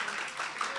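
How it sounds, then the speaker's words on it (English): Audience applause at a youth forum event, a steady wash of clapping from a crowd lasting under a second, moderately loud and even throughout. "Round of applause."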